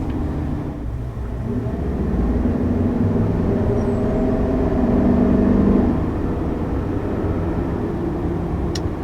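A 2021 Chevy Silverado Trail Boss with a 6.2-liter V8 and a 10-speed automatic revs loudly and up close. The deep engine drone swells and holds for several seconds, then eases off, with no talking.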